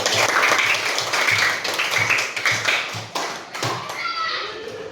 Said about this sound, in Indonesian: Kasih tepuk tangan dong untuk Bayu udah mau maju